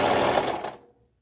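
A sewing machine runs a brief straight stitch along a tube dress seam, a fast whirring burst that cuts off and fades to silence.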